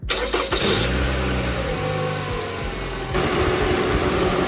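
A Toyota RAV4 2.4L engine cranks and catches after an alternator replacement, then settles into a steady rumbling idle with a slight rise in revs near the end.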